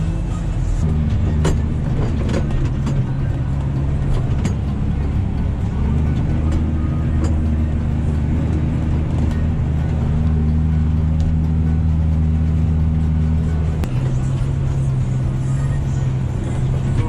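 A car passing along a country road beside a farm field being ploughed, a steady loud engine rumble with a low droning hum that shifts pitch midway and at the end, constant throughout with no talk.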